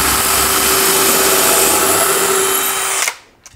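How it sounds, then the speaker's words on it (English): A power drill drilling a pilot hole whines steadily at high speed for about three seconds, then cuts off abruptly, followed by a couple of faint clicks. "Now I'm going to drill this as straight as I can."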